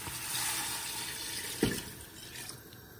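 Vegetable stock is poured into a pot of lamb fricassee, producing a steady watery wash with a brief splash partway through. The sound is quiet and close.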